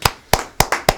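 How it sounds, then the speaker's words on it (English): Sharp hand claps ring out close by, four evenly spaced strikes in about a second, each a crisp slap followed by a short decay. "We got a hand clap for that one. That's a hand clap."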